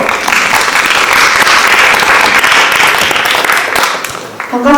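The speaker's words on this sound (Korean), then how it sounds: "큰 박수로 맞이해볼까요?" Sustained audience applause fills a school humanities festival hall as the next presenter, a student club representative, is welcomed; dense, loud clapping throughout that tapers slightly at the end as a voice begins.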